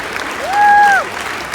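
An audience applauds parents and supporters at a school band concert: a dense, steady wash of clapping with a short whistle rising out of it.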